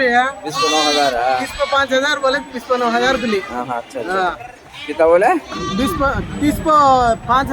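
Sheep and goats bleat loudly and repeatedly at a busy weekly livestock market in Kadiri, overlapping cries close by amid the chatter and bargaining voices of the crowd.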